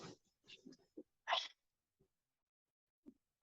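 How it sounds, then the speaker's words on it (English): A man sneezes indoors, with one sharp burst after a few short breaths and sniffs, then quiet with a faint click. "I was sneezing"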